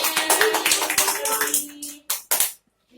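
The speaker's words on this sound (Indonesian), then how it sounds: "Beri tepuk tangan." Young pupils in an elementary classroom clap their hands in a quick scattered burst, then a couple of sharper isolated claps before falling silent.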